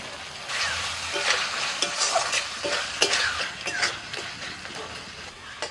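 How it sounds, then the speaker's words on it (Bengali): Spice paste with chopped tomato and Kashmiri chilli powder frying in a pan, stirred with a utensil: a steady sizzle with repeated scraping strokes in an irregular rhythm, close and moderately loud, with no voices. "এবার দিচ্ছি একটু টমেটো কুচি"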